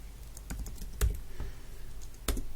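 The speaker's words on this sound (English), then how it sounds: "So you do that by typing Java and then do a hyphen and then type version" Keys clatter on a Mac computer keyboard, a run of light irregular taps with a few sharper, louder strikes, close and alone without speech.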